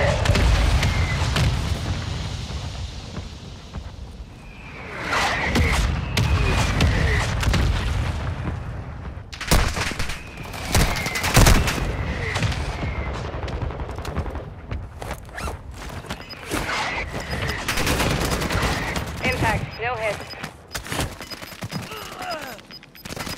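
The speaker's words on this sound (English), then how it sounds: "Mortar strike on the way." Mortar strike explosions in a video game: a dense, loud barrage of booming impacts and rumbling blasts, several sharp cracks over continuous heavy low rumble, with scattered gunfire and battle noise throughout.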